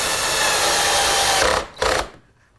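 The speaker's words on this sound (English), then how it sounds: "attach it with some screws from the inside" A power drill drives screws into wood while building a walnut table, a loud, close steady whir that runs for about a second and a half, then a short second burst before stopping, with no talking.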